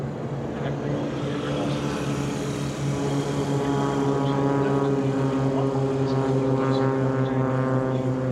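A Loach aircraft taxis down a runway at an air show, its engine giving a steady, loud droning hum with layered tonal whine that holds constant throughout, with no voices.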